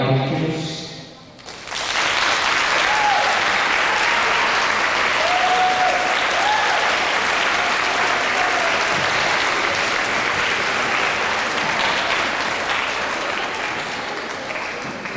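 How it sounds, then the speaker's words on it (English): A school audience applauds loudly and steadily for about thirteen seconds after a short quiet start, the clapping fading slightly toward the end, with a few faint voices mixed in. "you're going to answer by applauding"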